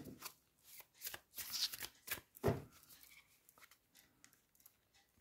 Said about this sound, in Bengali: আমি আরেকটি কার্ড নিয়ে নেব এই ডেকটি থেকে।